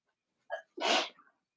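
A single sharp sneeze from a person, a short intake followed by a loud burst, close and alone with no talking over it.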